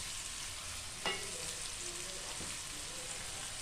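Chicken pieces sautéing in a hot pan, a steady moderate sizzle with a sharper crackle burst as the meat goes in, continuing evenly throughout with no voices.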